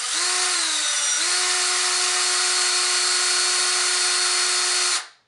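A power drill twists wire to form a model tree, a steady high electric whine that holds constant for about five seconds with a brief pitch dip early on, then spins down and stops.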